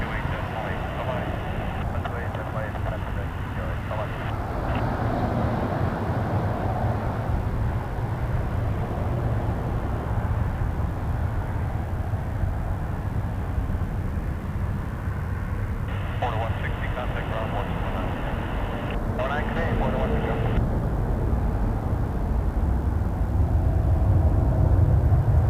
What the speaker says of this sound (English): 777 300ER, China Eastern.